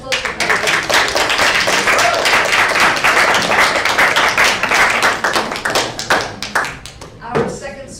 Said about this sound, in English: another round of applause for Maggie.